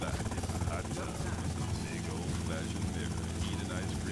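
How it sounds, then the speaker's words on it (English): Helicopter in the GTA Vice City video game, a steady loud rotor drone running throughout with dense low chopping, while gunfire-free game ambience stays under it and a player talks at times. "Stop shooting my helicopter"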